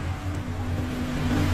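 A Honda Scoopy motor scooter engine running at a steady idle, a close, continuous mid-pitched hum with a faint whir and no speech over it.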